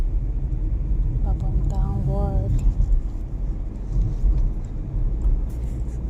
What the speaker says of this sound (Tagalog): So, dahil walang traffic, so practice muna ako mag-drive